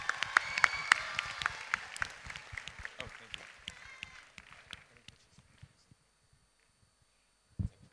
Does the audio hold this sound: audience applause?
yes